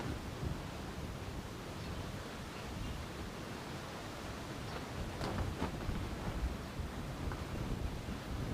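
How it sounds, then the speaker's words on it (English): At an outdoor work site in Baltimore, wind blows steadily, a dense rushing roar buffeting the microphone with little variation, growing slightly stronger and gustier toward the end. "Wind here at the site continues"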